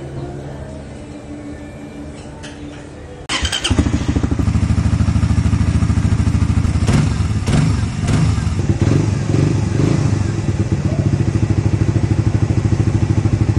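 A Suzuki Raider 150fi motorcycle engine warms up after an oil change, idling steadily and loud with a rough, pulsing thrum and occasional clattery blips, rising in level after a quieter start.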